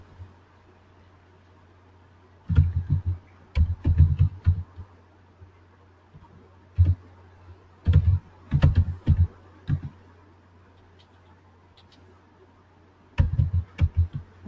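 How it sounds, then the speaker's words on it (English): Fingers tap out a password on a computer keyboard during spreadsheet software work, in several short bursts of crisp clicking keystrokes separated by pauses, close and clear over a steady low fan hum. "I type manager's password"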